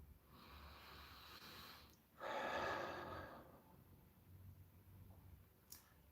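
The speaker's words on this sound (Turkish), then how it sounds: "Derin bir nefes alalım." One deep breath during a guided meditation, a soft airy inhale swelling for about two seconds and then fading, quiet and close with no talking over it.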